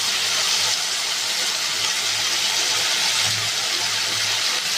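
Potato, brinjal and green peas with dried red chillies and nigella seeds frying in oil in a Bengali kitchen, a continuous loud sizzling hiss with no talk.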